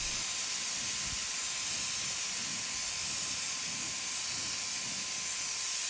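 A paint sprayer sprays primer onto a faux bamboo piece of furniture, giving a steady, loud hiss that runs unbroken throughout, with no talking.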